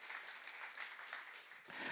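A church youth congregation claps together during a Korean sermon, a quiet, distant patter of applause that swells slightly at the end.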